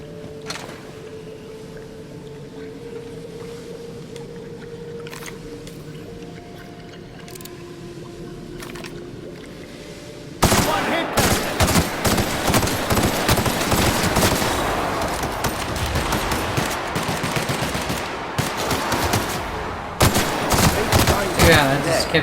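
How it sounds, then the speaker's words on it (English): Gunfire in the video game The Outer Worlds: Peril on Gorgon, with sparse shots over a quiet stretch that erupt into loud, dense rapid-fire bursts in the second half. "I just kept shooting him in the face."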